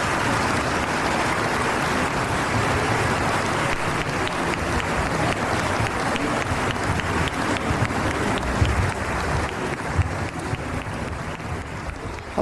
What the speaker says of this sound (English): please give the choir one last round of applause